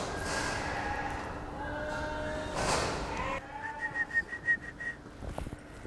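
People whistling to lead sheep onto a slaughterhouse kill floor in Spain: several short whistled notes over a noisy room, ending in a quick series of rising whistles with animal snorts and shuffling nearby.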